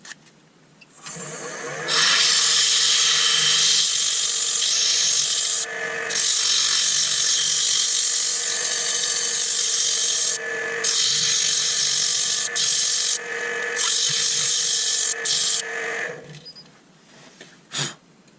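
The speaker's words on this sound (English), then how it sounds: "let's do a bit of sanding" Steady, rasping sanding of a wooden Viking-style drinking cup being woodturned runs almost continuously, loud and close, with a few brief pauses between long strokes.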